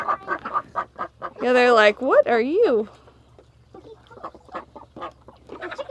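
A chicken lets out a couple of loud, drawn-out squawking calls at close range, set between people talking and a low steady hum in the background.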